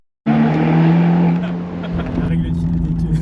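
A Fiat 124 Spider Abarth's 1.4-litre engine with a Monza exhaust bursts in loud and close, holding a deep steady droning note that eases slightly, with a raspy texture and a few crackles toward the end.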